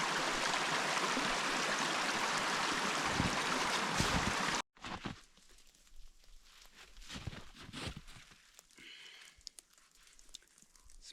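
Creek water rushes steadily in the woods, loud and broadband at first, then cuts to a quieter, nearer trickle and burble with occasional splashes.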